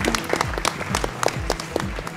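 A studio audience at a televised dance competition claps in a fast, even rhythm, close and moderately loud, with single hand claps standing out.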